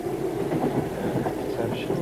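Steady rumble and rattle of a passenger train rolling along the rails, heard from inside the carriage as a continuous close drone.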